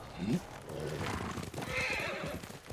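Horse whinnying briefly in the video game Ghost of Tsushima, a short rising neigh near the start, followed by steady game ambience and faint hoof clatter under someone talking.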